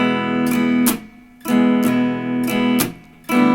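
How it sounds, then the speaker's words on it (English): Clean guitar notes repeat in a steady pattern, each phrase a plucked note followed by a quickly sounded higher note on the same string, played close and alone in a beginner lesson. "do what we call a hammer-on"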